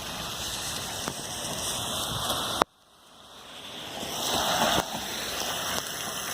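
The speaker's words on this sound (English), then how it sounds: "Oh no, it's raining out." Rain falls steadily outside at night, a continuous hiss of drops on surfaces, briefly cut off by a sharp click before the wash of rain builds back up.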